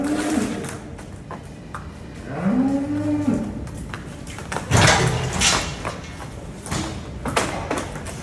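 Cows on a farm moo loudly and close by, several long drawn-out calls spread through the clip over a busy background of rustling and knocking.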